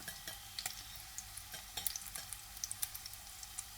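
Leftover lumpia frying in a pan as a home-cooked lunch: a steady, quiet oil sizzle with small pops and crackles scattered throughout, close but faint, with no talking.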